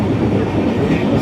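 A train pulling into Ramrajatala station, heard as a loud, steady rumble of rolling wheels and carriages with no pauses and no talking.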